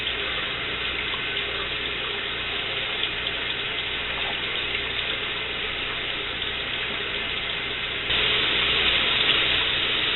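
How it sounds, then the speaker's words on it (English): Steady rush of very hot running water from a tap, continuous and fairly loud, growing slightly brighter and fuller near the end. "put your liquid extract under very hot water"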